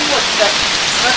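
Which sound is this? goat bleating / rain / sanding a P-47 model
rain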